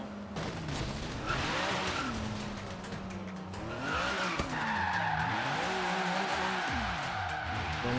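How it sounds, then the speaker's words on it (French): Car brakes and tyres skid and squeal in Forza Horizon 3 during a Hot Hatch championship handbrake race, with a steady engine roar and repeated sweeping screeches that rise and fall throughout. "Le bruit des freins, j'adore."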